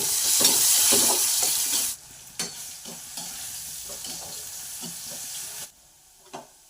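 Spices are stirred through hot refined oil with salt and a little turmeric, a loud steady sizzle for about two seconds that drops to a quieter fry broken by scraping stirs, then near silence with one last scrape.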